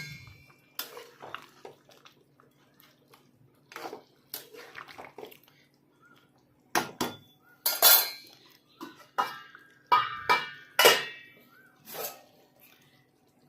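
A metal spoon stirs mutton curry in a pot, giving scattered scraping knocks and clinks that grow louder and more frequent toward the end, close and mostly alone in a quiet kitchen.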